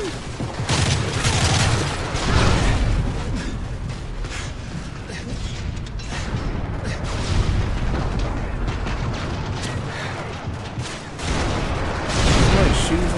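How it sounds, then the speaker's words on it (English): Sustained battle gunfire and booming explosions from the Call of Duty Modern Warfare 3 campaign, loud and chaotic, with repeated heavy blasts rising and falling over a constant roar of shots for several seconds. "I don't even know where they're shooting from."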